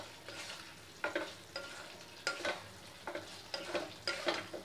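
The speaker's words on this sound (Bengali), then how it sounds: "মশলার সঙ্গে ভালো করে কষিয়ে নেবো" Spices with a little garam masala stir-fried in a pan for potol paneer dalna, a soft sizzle under repeated rhythmic scraping strokes of a spoon, fairly quiet and close.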